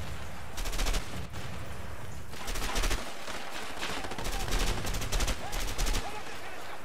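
Repeated bursts of automatic gunfire in the video game A Way Out, several loud clusters of rapid shots separated by brief pauses, close and harsh.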